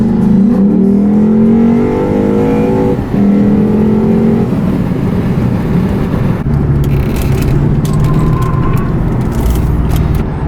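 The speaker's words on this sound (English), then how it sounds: "The downshifting is so harsh, but in a good way" Lexus IS-F accelerating hard, its engine revving up in loud rising sweeps, then shifting with an abrupt change in engine note and settling into a lower, steady drive, heard from close with no talk over it.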